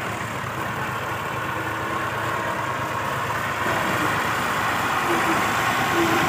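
A tractor engine runs steadily at idle on a farm beside a tubewell, a continuous close, loud rumbling drone that holds even throughout with no talk over it.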